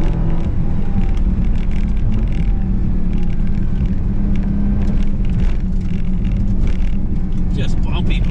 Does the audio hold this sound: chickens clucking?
no